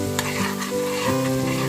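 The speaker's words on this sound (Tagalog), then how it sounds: "kumukulo na yung ating gata" Coconut milk bubbling and sizzling in a pan while Bicol express cooks, a steady close frying hiss with stirring and no talk.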